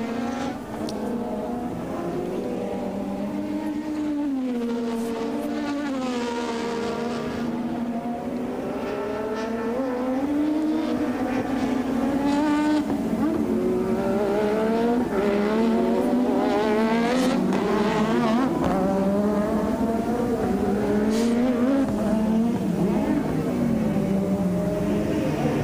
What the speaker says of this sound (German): Muss volles Rohr fahren, ist auch das schnellste Auto im Feld